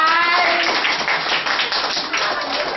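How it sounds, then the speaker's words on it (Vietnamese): Audience applause at a Vietnamese Buddhist dharma talk gathering in Fayetteville, Georgia: a steady, dense wash of clapping from a room of people, fairly loud and continuous throughout, with a few voices mixed in at the start. "Vỗ tay."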